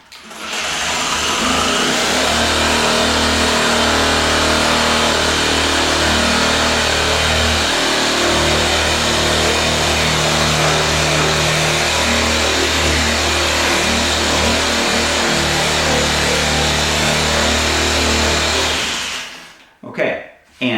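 A loud, steady mechanical drone of a Tango 360 rasp sander combo running continuously in sanding mode with a constant buzzing hum, cutting off abruptly near the end.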